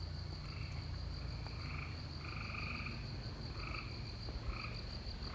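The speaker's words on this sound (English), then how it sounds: "Some kind of frog, I think. Maybe one of the tree frogs." Tree frogs croak in the Ozarks at night, with repeated short nasal calls pulsing at a steady rhythm over a constant insect drone, moderately near.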